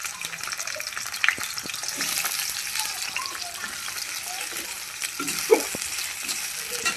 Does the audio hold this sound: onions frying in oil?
yes